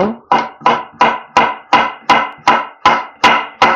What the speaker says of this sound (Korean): 당근 이렇게 잘라 볼게요